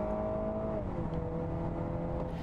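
Mini Cooper S engine pulling hard under load on the Nürburgring, a steady loud drone with a clear pitch drop near one second as it shifts, then climbing again, no talk.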